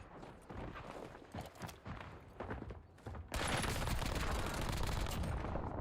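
Rapid bursts of automatic gunfire in the shooter game Warzone, loud and continuous in stuttering volleys that swell into a dense sustained barrage.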